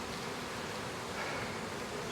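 A swarm of honeybees caught by a beekeeper fills the air with a dense, steady buzz, loud and continuous throughout with no voices over it.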